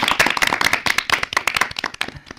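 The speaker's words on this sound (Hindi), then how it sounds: "इनके लिए जोरदार तालियां।" Clapping follows a correct answer at a children's quiz recorded for radio. A small group gives about two seconds of distinct, close hand claps that thin out and fade away.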